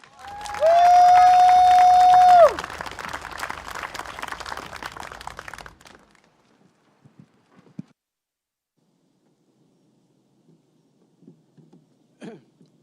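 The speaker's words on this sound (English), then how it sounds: "Can we give him a round of applause, please?" A political rally crowd at a stadium cheers and claps, with a sustained horn blast over the first couple of seconds, before the noise drops away into near silence with a few scattered sounds.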